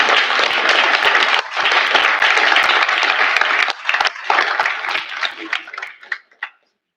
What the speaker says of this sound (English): If you'll give her a round of applause as well.